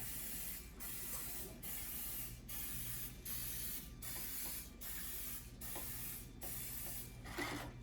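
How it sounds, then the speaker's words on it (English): Repeated bursts of aerosol cooking spray onto muffin tins, about eight short hissing sprays in a steady rhythm, close and fairly loud, with no talking. "we're gonna spray it with a little cooking spray so they don't stick"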